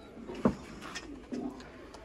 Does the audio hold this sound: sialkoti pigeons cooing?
yes